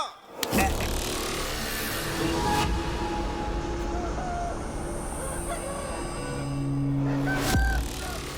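Rooster crowing and clucking amid a noisy cockfight crowd scene in a Hindi-dubbed horror film, with several drawn-out calls rising over a dense, steady din of background murmur and movement.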